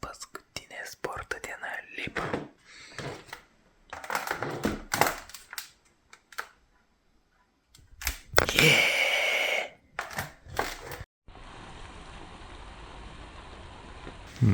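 Rain falls outside as a steady, even hiss that fills the last few seconds, following stretches of soft whispered talk and brief rustling sounds.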